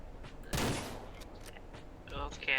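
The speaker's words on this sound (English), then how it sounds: "Okay, I just heard a gunshot." A single gunshot in the farming video game Ranch Simulator: one sharp loud blast with a brief tail, followed by quieter game sounds and faint footsteps.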